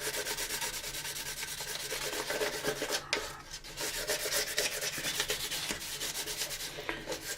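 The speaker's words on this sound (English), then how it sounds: "Whoever thought that 15 minutes of sanding a saucer could be so much fun and so informative." 600 grit sandpaper rubbing steadily back and forth over the plastic saucer section of an AMT 1983 U.S.S. Enterprise model kit, a continuous close, gritty scraping with rhythmic strokes and a brief pause midway.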